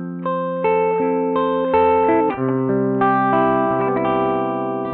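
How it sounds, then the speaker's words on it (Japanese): Electric guitar played through a Klon KTR overdrive pedal with gentle, warm distortion: sustained chords ringing out loud and continuous, with a clear, firm core. "この優しい歪みといいますか、これが好きですね。"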